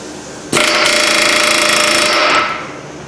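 Hammer driven against the nut on a lower control arm bolt of a Ford Fusion: a loud, rapid metallic hammering burst that starts abruptly, runs for about two seconds, then fades out.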